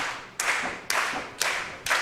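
A wrestling crowd at the Nightmare Factory claps in unison, four sharp, evenly spaced beats about half a second apart, each fading before the next.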